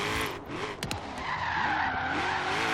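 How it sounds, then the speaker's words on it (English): A supercharged Ford Mustang GT350R in Forza Horizon 3 howls at high revs with tires squealing, the engine note dipping and rising through quick gear changes, loud and close. "Pulling some very, very aggressive shifts here."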